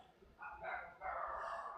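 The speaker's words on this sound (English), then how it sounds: "I guess someone outside has upset the dogs." Dogs barking outside, heard as muffled yips and barks at a distance, in two bursts with a short gap.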